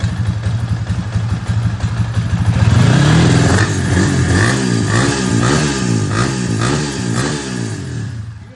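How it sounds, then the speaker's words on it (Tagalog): Engine of a Yamaha Sniper 155 motorcycle bored up to 210cc, revving up from idle and then holding a pulsing, rhythmic throb with a mechanical clutch clatter running through it, loud and close. "May naririnig nyo yung sa clutch."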